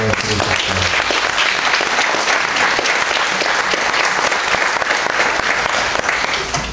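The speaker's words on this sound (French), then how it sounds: "on s'applaudit les uns les autres pour cette rencontre" An audience gathered for an evening at a chapel bursts into close, loud applause, a dense and even patter of many hands that keeps going throughout.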